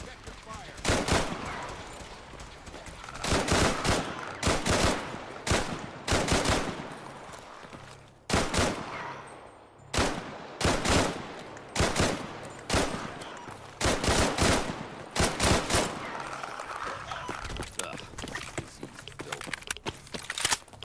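Repeated bursts of gunfire in Fallout, fired as sharp single shots and rapid volleys across a long firefight, loud and close, with brief gaps between strings of shots.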